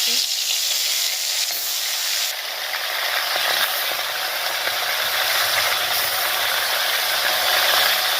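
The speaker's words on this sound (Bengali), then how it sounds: "তো মাছটা হচ্ছে এখানে ভাজা হয়ে গেছে ইলিশ মাছ হালকাই ভাজি" Hilsa fish coated in turmeric and salt frying in oil, a close, continuous, loud sizzle with faint stirring and scraping underneath.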